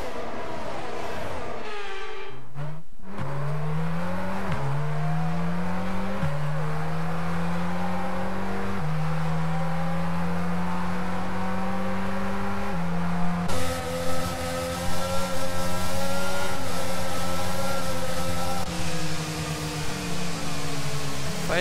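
Racing cars in a simulated video-game race circulate behind a safety car, with sustained engine drone rising through repeated gear shifts, loud and continuous, and no talk.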